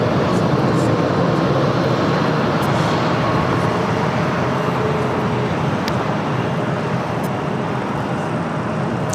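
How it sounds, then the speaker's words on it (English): An American Airlines Airbus A321 bound for Las Vegas takes off at LAX with a loud, continuous jet roar that stays steady throughout, nearby and unbroken by voices. "This is American Airlines 801 taking off to Las Vegas on an A321."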